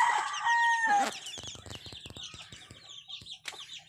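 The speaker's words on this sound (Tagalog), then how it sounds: "Manok ko mga idol." A rooster crows up close, followed by chickens clucking and scratching nearby, with short bursts of pecking and rustling.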